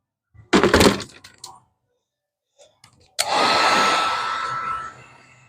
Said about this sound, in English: heat gun works.